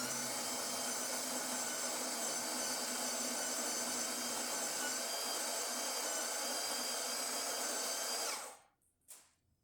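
A DeLonghi La Specialista espresso machine grinds coffee beans fine after a full service. The grinder gives a steady, bright, loud whirring that runs for about eight seconds and then cuts off abruptly, followed by a short, faint clatter.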